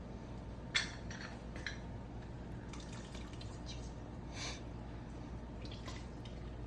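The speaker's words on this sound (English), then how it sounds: "we're going to juice a lemon" A lemon being squeezed by hand, giving faint dripping and trickling liquid sounds with a few small sharp splashes and clicks, quiet and close.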